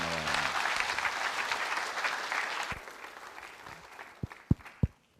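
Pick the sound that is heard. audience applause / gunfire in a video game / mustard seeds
audience applause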